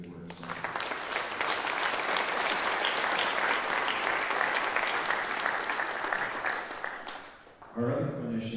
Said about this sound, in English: I want to give him a round of applause because he's a good man